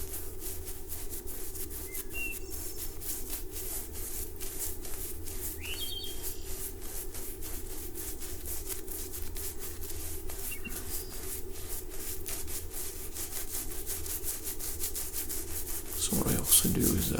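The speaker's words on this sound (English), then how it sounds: "I'm going to apply some shaving cream on my face." Shaving cream foam being rubbed onto a face before a double edge razor shave, a close, soft, continuous rubbing and squishing texture with faint light clicks, ending in a slightly louder rustle.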